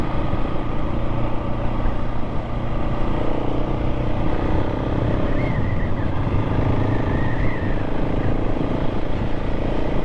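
A KTM 690 SMC-R motorcycle pulls steadily away on the clutch, heard as a continuous engine drone mixed with rushing wind noise, with no talking.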